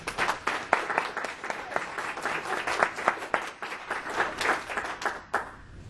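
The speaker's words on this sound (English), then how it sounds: "Please join me in giving Rick a round of applause." Audience applause at a young entrepreneurs' academy presentation, a smaller group clapping with distinct individual claps in an uneven rhythm, moderately close, fading toward the end.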